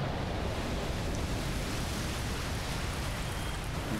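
A constant, dense rush of falling water from a waterfall in the video game Dark Souls, an even, unbroken roar with no pauses or voices.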